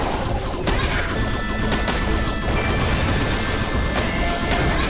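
Dense, continuous gunfire from a thorn-dragon gun shooting dinosaurs in the game Mini World, with rapid overlapping shots and crashing impacts filling the whole stretch without pause.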